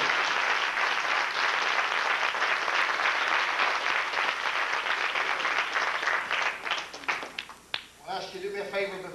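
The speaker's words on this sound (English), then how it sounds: "Give the Lord another hand clap on the table." A church congregation at a baptism service claps hands in dense, steady applause that fills the room for about seven seconds, thins out, then gives way to someone speaking.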